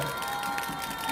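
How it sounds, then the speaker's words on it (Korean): A crowd at a doctors' association protest rally outside the presidential office claps and cheers together in a dense, continuous wash of applause that fills the whole brief stretch. "크게 한번 박수 쳐주십시오"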